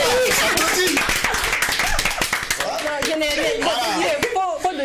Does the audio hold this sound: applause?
yes